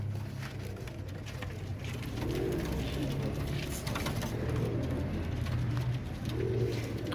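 Pet pigeons coo in soft, repeated low rolling calls, fairly close and quiet, with a faint hiss of rain or background noise beneath.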